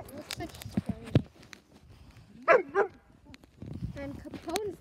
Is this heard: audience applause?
no